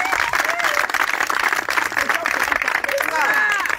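Church congregation applauding and cheering in a dense, steady roar of clapping mixed with shouts and voices, loud and continuous throughout.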